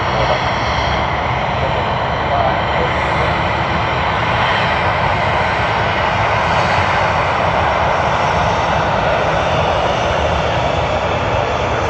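Airliner jet engines departing Sydney Airport make a loud, steady broadband roar that fills the whole stretch without a break, close and unvarying.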